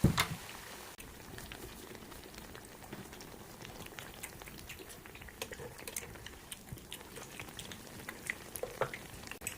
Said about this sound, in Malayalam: ഇനി നമുക്ക് ഒരു കുറച്ച് ഹാഫ് ആൻ അവർ വെച്ചതിന് ശേഷം പൊരിച്ചെടുക്കാം